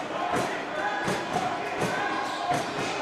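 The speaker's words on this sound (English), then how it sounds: "The crowd is loud." Crowd noise at a men's college basketball game, Centennial versus Durham, a constant loud roar of spectators with rhythmic thumps and bursts, heard under an announcer's play-by-play.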